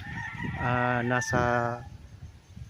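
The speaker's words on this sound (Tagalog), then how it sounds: "may mga manok po doon" A rooster crows once on a farm in Pagsanjan, Laguna, a long, loud, wavering call with a brief break near its middle, close by against quiet outdoor background.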